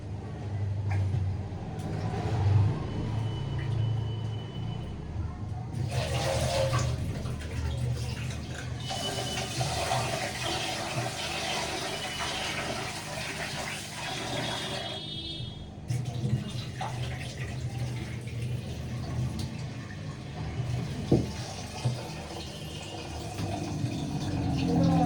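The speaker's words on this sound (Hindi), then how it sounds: "मैंने राइस को 7-8 बार धो दिया है" Rice is washed in water, with bursts of running and pouring water and swishing splashes coming in separate spells over a low background hum, the bursts close and fairly loud against quieter stretches in between.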